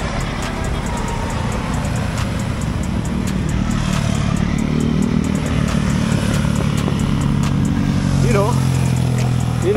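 A group of riders passes on the road, and the engines rise and fall in a continuous roar of wind and motor noise. Someone talks over the traffic throughout.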